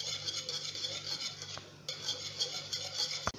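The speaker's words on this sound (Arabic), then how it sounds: "نحرك مليح ندوب هذيك الزبده." A spoon or whisk stirs cream and butter in a metal pot as the butter melts, a steady scraping and clinking with a brief louder knock near the end, alone and close.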